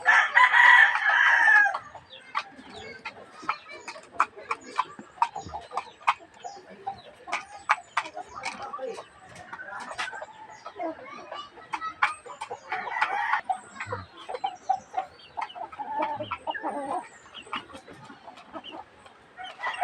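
A rooster crows loudly at the start, then hens keep up a busy scatter of clucks and cackles nearby, with occasional faint talk.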